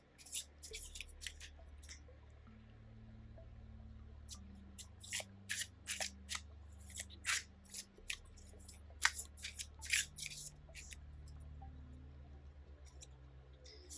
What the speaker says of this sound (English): So I have your cards here in my hand, and I'm just going to shuffle